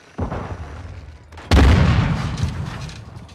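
In a multiplayer shooter video game, a grenade explodes with a loud, close boom. A smaller bang comes just before it, and the blast tails off into a rumbling decay.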